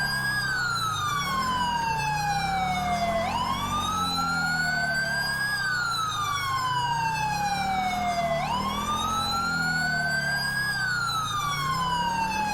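Police car, ambulance and fire engine sirens from a GTA 5 presidential escort convoy wail in rising and falling sweeps, several overlapping at once. They sound loud and close, continuous throughout with no talking.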